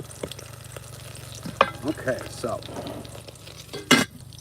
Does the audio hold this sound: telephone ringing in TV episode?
no